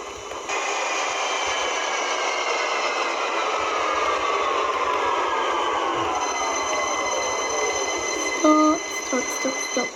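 A Victoria line train in the OpenBVE simulator rumbles steadily with a long descending whine as it slows into a station, then a few chiming tones near the end.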